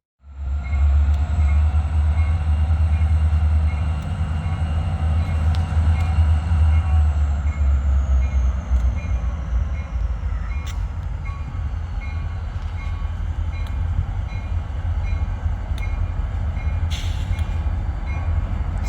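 Freight train locomotive switching cars around Sayre, Pennsylvania and Ithaca, New York, a loud, sustained low diesel rumble with occasional metallic clanks and squeals, heard nearby and continuing throughout.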